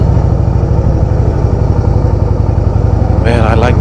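A 2016 Harley-Davidson Softail Deluxe engine rumbles steadily and loud while riding on the road, a constant low throb throughout, with a brief higher whine or tonal sound near the end.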